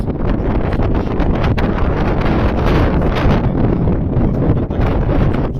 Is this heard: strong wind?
yes